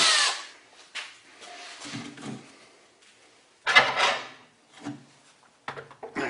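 A drill enlarges a worn bushing on a Highland Park 18-inch rock saw, heard as several short, uneven bursts of grinding and whirring with pauses between them, close and moderately loud, with no talking.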